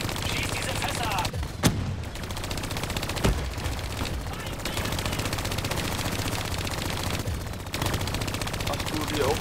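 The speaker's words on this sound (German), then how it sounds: "Ach, ganz da hinten ballern die noch auf mich." Gunfire in the Black Ops 3 campaign, sustained automatic bursts rattling steadily with a few sharper single cracks standing out, loud and dense across the whole stretch, with a voice speaking at moments.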